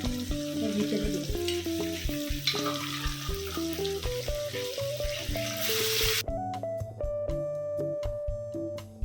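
Boiled mutton fries in a pan for a Bengali mutton curry, giving a hissing sizzle under prominent melodic background music; the sizzle cuts off about two-thirds of the way through while the music carries on.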